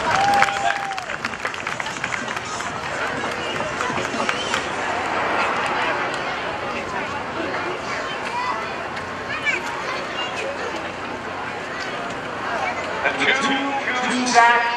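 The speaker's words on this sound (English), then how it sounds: "Let's give them a big round of applause." Spectators at the NAS Oceana airshow applaud skydivers after a landing, producing a continuous, moderately loud wash of outdoor clapping and crowd noise. Voices are mixed in, and the sound swells slightly near the end.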